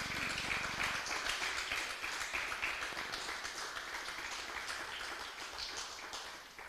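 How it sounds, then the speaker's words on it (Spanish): A church congregation applauds at a service, brisk clapping filling the room and slowly fading toward the end, somewhat distant and soft. "Denle un fuerte aplauso"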